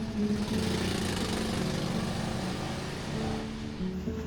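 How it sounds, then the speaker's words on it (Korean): Printing machines in small print shops lining a narrow alley run with a steady, droning mechanical hum that continues without pause, moderately loud and close. "길 양옆으로 쉴 새 없이 돌아가는 기계 소리가 들려오고"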